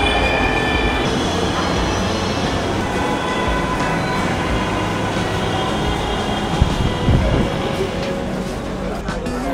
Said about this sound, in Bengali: এই যে ট্রেনটা আসতেছে, মানে এটা উত্তরা থেকে মতিঝিলের দিকে আসতেছে আর কি।